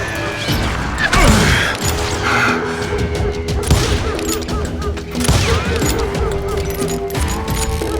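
Gunfire in the Western shooter Call of Juarez Gunslinger, with several loud shots and clattering impacts scattered through a dense, busy mix of game sound; a faint voice is heard in the background.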